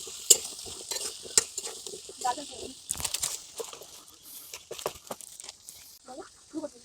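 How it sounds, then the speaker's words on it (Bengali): Potatoes fry in a pan over a clay village stove, a steady hiss broken by stirring scrapes and clinks, with soft talk in the background. "আলুগুলো ভাজা হওয়া পর্যন্ত অপেক্ষা করবো।"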